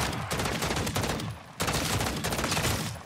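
Rapid, dense gunfire from Call of Duty MW3 Zombies fills the clip in continuous bursts, with one short lull in the middle.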